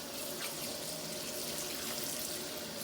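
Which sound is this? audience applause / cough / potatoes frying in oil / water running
water running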